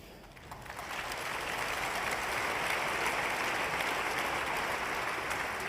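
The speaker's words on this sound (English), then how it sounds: "a lot of the room is applauding that" A conference audience breaks into applause during a keynote speech, quickly building to a full, sustained clatter of many hands clapping.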